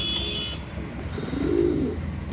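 Pigeons, a mix of older birds and new young ones, give a soft low coo midway through, close by, over steady background hum and faint chirps.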